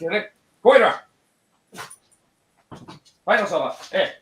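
A dog barks and yips in several short, separated bursts, close by and fairly loud, mixed with people talking over a casual livestream.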